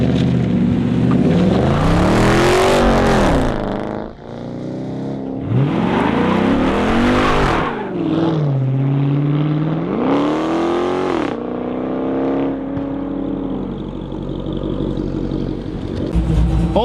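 A Mopar SRT8 car accelerates hard in traffic, its engine revving up and rising in pitch three times in strong surges, close and loud, with brief gaps between pulls.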